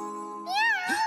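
A cartoon cat lets out a single rising-and-falling meow, fairly clear and close, ending in a brief breathy tail.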